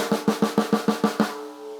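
A 2010 Pearl Masters drum, freshly tuned, is struck eight times in a quick even roll, each hit ringing with a clear pitched tone before the last one fades out. It is close and alone, with no talk.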